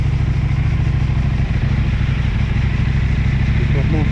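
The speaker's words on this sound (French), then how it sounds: "on est sur la belle KTM" A KTM 790 Adventure motorcycle engine runs with a steady, close, loud rumble throughout.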